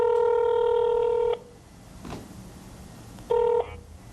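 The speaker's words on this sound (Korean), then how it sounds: "제가 한번 전화를 좀 해볼게요" Telephone keypad tones sound: a long steady dial tone, a quiet gap with faint handling noise, then a short keypad beep, all clean and close.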